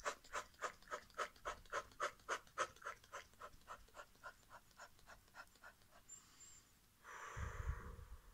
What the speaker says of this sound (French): je vais faire une respiration de type rapide